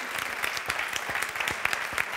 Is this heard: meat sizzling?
no